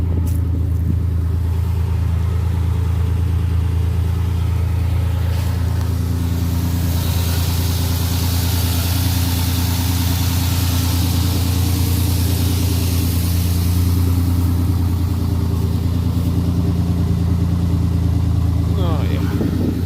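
A Chevrolet C10 truck's engine idles steadily and loudly up close, a constant low rumble that holds without revving for the full stretch.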